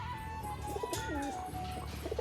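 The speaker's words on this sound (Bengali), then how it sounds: "এই যে দুটো পায়রা পাশাপাশি দিয়ে তোমাদের একবার দেখাই" A pair of pigeons coo side by side, repeated warbling low calls close up, with more cooing from other birds nearby.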